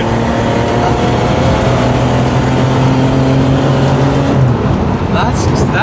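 Porsche 930 Turbo engine roaring loudly and steadily under hard throttle at high speed, with a brief shift near the end where the tone drops and changes.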